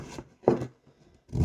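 Vegetables are chopped into smaller pieces on a board, a few separate knife strikes with short gaps between them, close and fairly soft.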